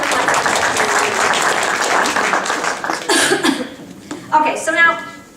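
A game show audience applauds in a dense, loud burst that fades after a few seconds into scattered claps, chuckles and a cough, with voices talking near the end.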